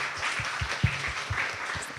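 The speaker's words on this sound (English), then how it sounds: "a round of applause to our panelists" Applause from an audience at a symposium and mentorship forum, thanking the panelists; a soft, distant patter of claps lasting about two seconds at low level.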